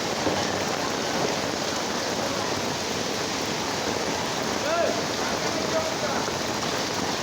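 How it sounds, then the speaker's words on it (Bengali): Heavy rain pours onto a flooded street in New C Block, Mirpur, a dense, steady hiss of water striking water that stays loud and unbroken from start to finish, with no clear talk over it. "বৃষ্টি আবার যেভাবে বাড়তেছে"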